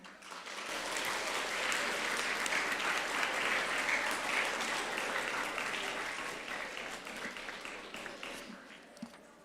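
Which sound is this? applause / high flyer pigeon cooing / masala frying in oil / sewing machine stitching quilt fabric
applause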